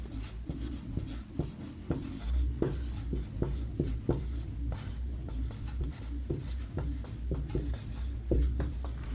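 Handwriting in Hindi script for a Sanskrit class, heard as close, scratchy pen strokes in quick irregular bursts with short pauses between words, and a faint voice at times.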